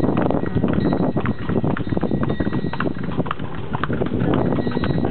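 Kalesa horse hooves clip-clop in a steady, fairly loud rhythm on pavement, continuous throughout with no talking.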